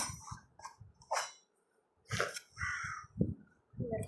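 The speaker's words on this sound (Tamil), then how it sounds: "உள்ளார இருந்து காக்கா சத்தம் கேக்குது." Several loud, harsh crow caws ring out in short bursts with pauses between them, fairly close.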